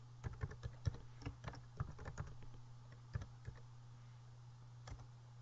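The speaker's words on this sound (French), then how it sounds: "je tape directement au travers d'un navigateur, en l'occurrence ici Firefox, l'URL de mon parapheur électronique" Someone types a web address into the Firefox browser on a computer keyboard, producing a steady run of light, uneven key clicks over a constant low electrical hum.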